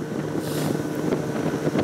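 Cold wind gusts on the Ob river, with a boat motor droning steadily underneath; continuous wind buffeting the microphone at moderate level with no voices.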